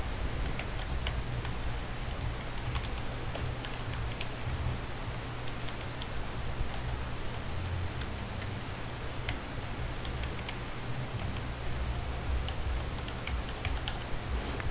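Someone types in Word 2016 on a computer keyboard, producing faint, irregular key clicks under a steady low hum and background hiss.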